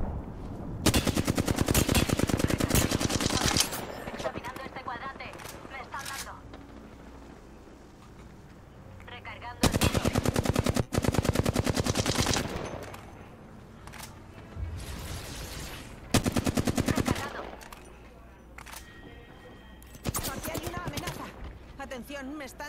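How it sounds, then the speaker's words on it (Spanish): Rapid automatic gunfire in an Apex Legends match, long rattling bursts that stop and start across the stretch, loud and close, with gaps filled by softer shots, clicks and a voice talking. "Me están disparando."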